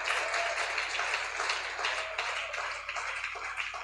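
A church congregation applauding during a sermon, a dense, steady wash of many hands clapping at once for a few seconds with no clear pause.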